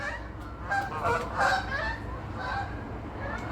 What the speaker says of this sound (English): Oh, 2 geese.